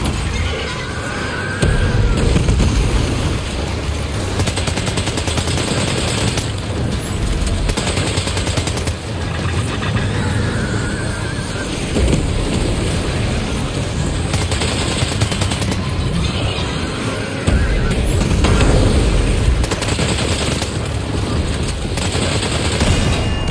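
Turret gunfire in Death Stranding 2: On the Beach, sustained loud rapid automatic bursts with sharp cracks and booms, pausing briefly and resuming over a long stretch with no talking.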